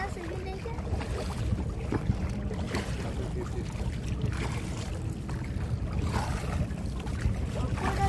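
A boat moves across the sea toward a ship jetty at Patenga, with a steady low rumble, wash of water and gusting wind noise throughout. Voices can be heard faintly in the background.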